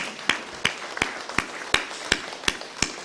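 Scattered claps from a congregation during a church worship service, a few separate sharp hand claps spaced roughly every half second over a low room murmur, moderately close and not building into full applause.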